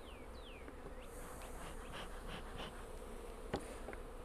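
Honey bees buzz steadily around a hive, a dense close-up drone of many insects with a few passing whines and a brief sharp tap.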